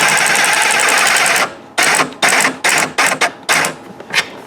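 A tool drives a screw on a 2013 Nissan Sentra. A sustained whirring grind runs first, then breaks into five or six short, loud mechanical bursts separated by brief gaps.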